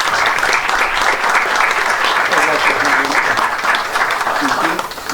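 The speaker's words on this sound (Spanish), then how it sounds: "Que se extienda el aplauso para todos ellos y para todos ustedes." A crowd applauds steadily, a dense wash of clapping that holds at full strength throughout and barely dips near the end.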